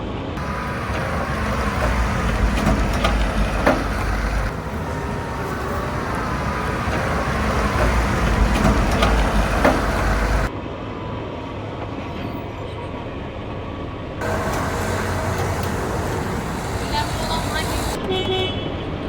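A municipal garbage truck drives into a residential street, its engine rumbling and grinding continuously and fairly loud, with a short quieter stretch midway, while people talk nearby.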